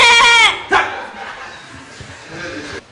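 A person imitates a Hausa goat, letting out a loud, close, wavering bleat followed by a shorter second bleat and a softer trailing one.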